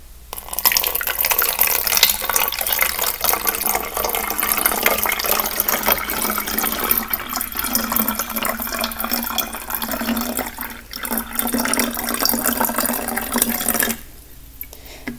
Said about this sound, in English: pour it in about halfway with water